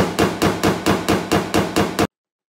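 Eight sharp, evenly spaced hammer blows strike a dented car door in quick succession, loud and close, then stop abruptly into silence.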